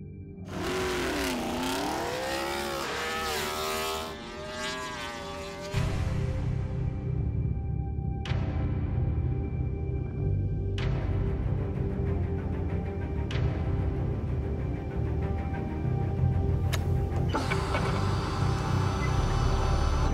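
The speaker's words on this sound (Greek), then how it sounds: "Το νέο GSX-R1000 ήρθε στην εκπομπή μας και το έχουμε φέρει για μια δυναμομέτρηση." A sixth-generation Suzuki GSX-R1000 motorcycle screams on a dynamometer through repeated loud revving pulls, each rising in pitch before a sharp cut, after an opening stretch of warbling, tonal sound.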